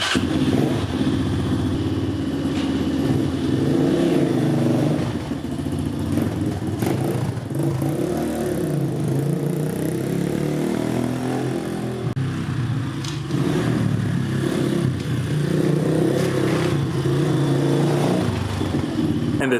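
An Apollo DB36 dirt bike engine runs loud and close throughout on a cold day, rising and falling in pitch as it rides out, turns around and comes back up into a garage.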